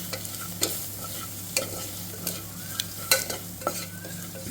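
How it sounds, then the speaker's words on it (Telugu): A spoon stirs spices and coriander powder into a mint-coriander pulao mixture in a pan over a soft sizzle, with repeated sharp scraping clicks at irregular intervals, close and clear, with no talking. "దీన్ని మంచిగా మనం మిక్స్ చేసుకోవాలి."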